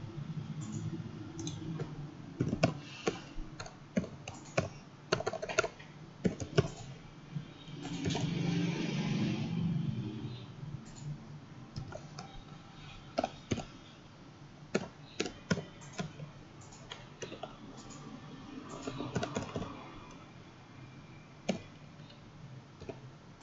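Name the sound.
computer keyboard typing an expression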